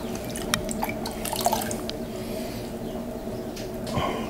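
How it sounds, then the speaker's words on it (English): Water drips and trickles at the bottom of a thrown pottery piece on a spinning wheel, with a scatter of small wet clicks and drips over a low steady hum. "A bit of water always gets down the bottom, doesn't it?"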